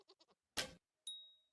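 A goat in the video game Vintage Story lets out a single short, bright bleat, close and clear, after a few quiet taps and followed by a thin ringing tone, with no talking.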